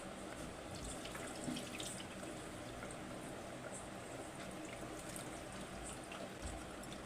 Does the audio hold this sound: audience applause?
no